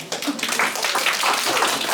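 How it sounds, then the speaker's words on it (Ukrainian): A small audience claps for craftswomen and their pupils at the opening of an art exhibition in a Ukrainian centre in Schwerin, Germany, with brief scattered hand claps nearby and no voices. "оплески вам"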